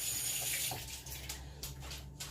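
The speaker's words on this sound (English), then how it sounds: "You rinse this bowl out." Running tap water splashes steadily into a bowl being rinsed in a kitchen sink, close and fairly quiet, with slight clinks and shifts as the bowl is moved.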